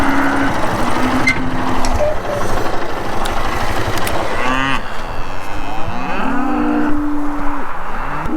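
Cows in a calving mob moo repeatedly, several long, loud low calls close by, separated by brief pauses, with a faint engine idling in the background.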